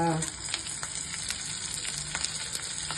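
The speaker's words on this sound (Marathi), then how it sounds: "त्याला छान परतून घेऊया आपण थोडं." Chopped tomatoes sizzle and fry in a pan for soyabean chilli, a steady close crackle with a few stirring scrapes and no talking.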